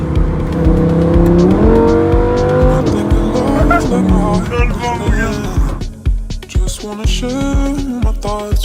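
An Audi RS3 revs hard in Dubai, its engine note climbing and falling in loud, close surges with a squealing, tire-smoking edge, then choppier blips toward the end.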